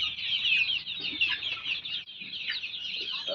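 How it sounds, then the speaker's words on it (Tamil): Country chickens on a farm cluck continuously, several birds overlapping in a busy, close chorus with no talking. "நாட்டுக்கோழி வளர்ப்பு"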